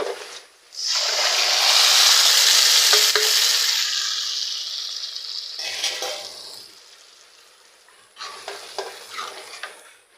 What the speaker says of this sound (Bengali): এবার আমি ঘুটে রাখা ডালগুলো দিয়ে দেব।